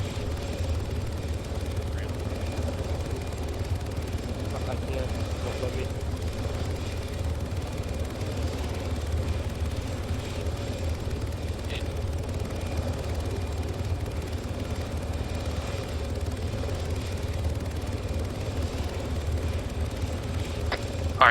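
A helicopter engine in the Operation Valiant Serpent video game drones steadily as a continuous low rumble and whir from start to finish, unchanging in level, with no speech heard.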